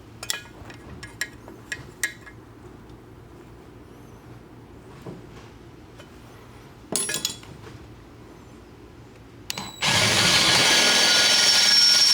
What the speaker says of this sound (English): and then the last drill bit